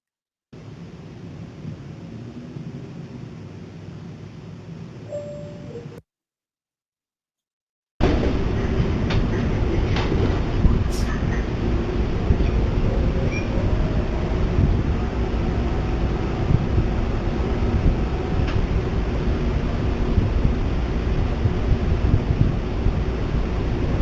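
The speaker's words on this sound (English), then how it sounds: "Please stand clear. Doors are closing. Train is about to move." A subway train at a station gives a loud, continuous low rumble and rattle. A short gap of silence breaks it early on, then the train noise carries steadily to the end with no clear voices.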